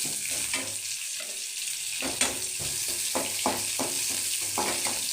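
Onions sauté in a pan for a cabbage and broad bean poriyal, a steady sizzle broken by repeated stirring scrapes and taps, close and without talk.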